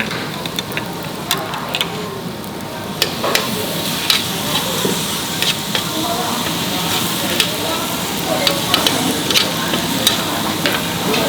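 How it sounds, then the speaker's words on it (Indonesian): Cut-up meat sizzles and fries steadily in a hot pan with garlic and margarine, with continuous loud crackling and occasional stirring scrapes and clinks. "Ini daging yang udah dipotong-potong. Kasih bawang putih sama margarin."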